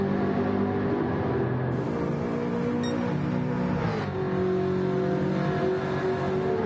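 Raspy, burbly engine of a Jaguar F-Type Gr.4 race car in a racing game, a steady loud drone with shifting pitch and a brief dip as revs change.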